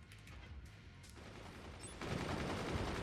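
Gunners shooting in the Forts real-time strategy game: dense, continuous rattling gunfire that grows louder and busier partway through, with no talk over it.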